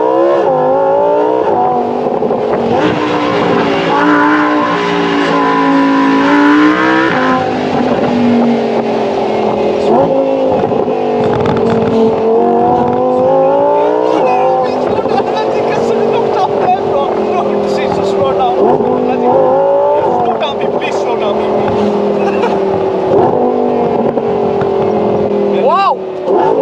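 A Lamborghini Huracan is driven hard, its engine droning loud and close as it rises and falls through repeated revs and gear changes, with voices talking over it.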